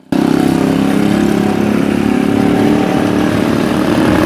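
A customised motorcycle fitted with more than 20 tyres runs its engine in a steady, loud, low rumble that holds evenly throughout with no pauses.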